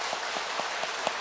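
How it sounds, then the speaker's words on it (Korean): A church congregation applauds in thanks, a dense, even wash of clapping with a few sharper claps standing out at a distance. "우리나라 이렇게 사랑하시는 하나님께 감사의 박수를 올려드립니다"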